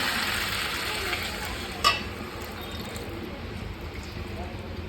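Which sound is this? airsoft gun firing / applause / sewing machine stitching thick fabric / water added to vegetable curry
water added to vegetable curry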